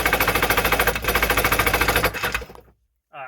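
A jet ski engine fires up and runs with a loud, rapid, steady chatter for about two and a half seconds, then cuts out abruptly into silence before a brief mechanical burst returns.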